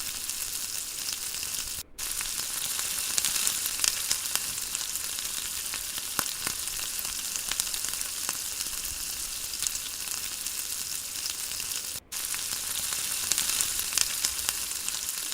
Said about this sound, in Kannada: ಈ ರೀತಿ ನಿಧಾನಕ್ಕೆ ಮೊಟ್ಟೆ ಎಲ್ಲ ಮಿಕ್ಸ್ ಆಗೋವರೆಗೂ ಚೆನ್ನಾಗಿ ಮಿಕ್ಸ್ ಮಾಡ್ಕೊಳ್ತಾ ಇದ್ದೀನಿ